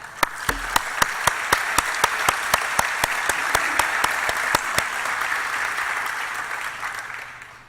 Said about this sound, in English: One more round of applause to thank them.